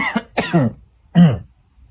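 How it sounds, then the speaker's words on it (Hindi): Three close, harsh coughs in quick succession, then a pause and one more loud cough, all near and with no talking. "हो गई खांसी शुरू"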